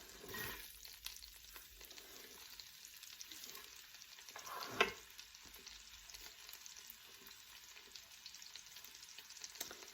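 Onions hiss and sizzle as they drop into melted butter in a pot, a steady soft frying crackle with one brief sharper clatter near the middle, no voices.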